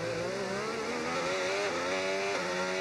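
A racing car engine in a video game drones at high revs, a loud continuous whine with shifting pitch and a brief rise near the end, heard alone.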